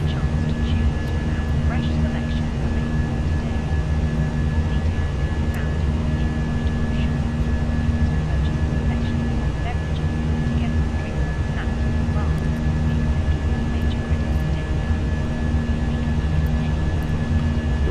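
Airliner climbing out of Queenstown with flaps at setting 2, heard from inside the cabin as a steady, loud broadband jet roar with low engine hum, unbroken throughout.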